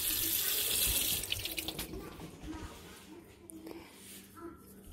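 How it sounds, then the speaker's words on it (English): Water running from a tap into a container, a bright steady splashing stream for about a second, then quieter handling sounds and faint talk in the background. "Now, we expect mommy to put some water in it."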